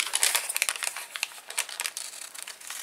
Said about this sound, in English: I'm going to take my scissors and just trim it a little bit